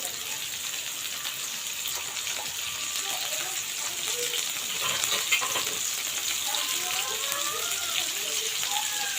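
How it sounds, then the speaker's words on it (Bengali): Chopped ash gourd fries in a pan with shrimp, giving a soft, continuous sizzle and crackle that holds steady throughout at close range, with no talking over it. "এটা আমি এখন একটু হালকা ব্রাউন কালার করে ভেজে নিব।"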